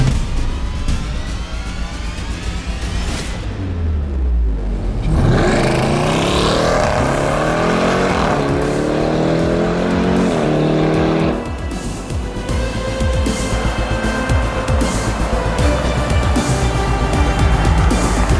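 A powerful SUV launches hard from a standstill, engine revving loudly and climbing steeply through the gears with rising, falling pitch sweeps, close and dominant, settling into a sustained high-speed roar.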